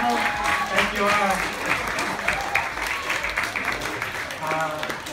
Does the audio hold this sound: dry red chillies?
no